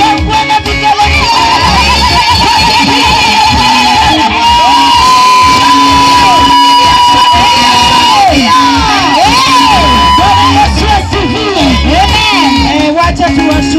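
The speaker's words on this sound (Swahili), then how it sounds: "Haya makofi, shangwe na vigelegele" A large crowd at a Swahili-speaking ceremony claps, cheers and ululates, with sustained high trilling cries over loud applause and shouting, continuous and close throughout.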